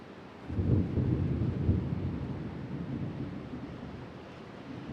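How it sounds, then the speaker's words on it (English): Thunder from a storm near an airport, a low rolling rumble that swells up after a quiet start and slowly fades over several seconds, distant and steady, with no voices. "Love the sound of a thunderstorm."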